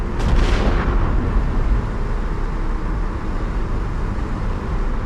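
A Honda CR-Z on a test drive after a spark plug boot install gives a continuous heavy low rumble of engine and road noise, loud and steady from the car's interior, with no talking.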